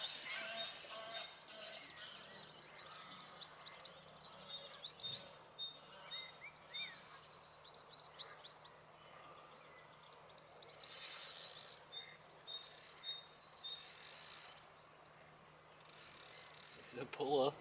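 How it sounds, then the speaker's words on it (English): A fishing reel's drag clicks as a fish pulls line while paste fishing, in rapid ratcheting runs that come and go over a quiet outdoor background with faint birdsong. "That's Sing of the Reel, man."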